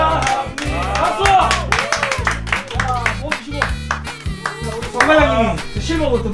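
Sharp claps burst in celebration of a channel reaching 100,000 subscribers, scattered and uneven among people talking, over a low sustained tone underneath.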